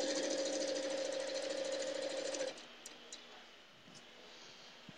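A sewing machine stitches quilt seams in a fast, even mechanical chatter for about two and a half seconds, then stops, leaving faint handling noise.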